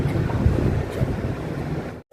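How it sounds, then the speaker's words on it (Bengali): Wind gusts outdoors near a temple, a steady, loud rush buffeting the microphone with low rumble throughout, then cutting off abruptly near the end. "আর কি সুন্দর হাওয়া দিচ্ছে দেখছি"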